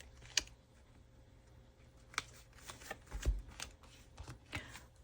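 Tarot cards being drawn and laid out on a table for a reading, producing faint, close shuffling and sharp card snaps in an irregular run of quiet clicks and slides.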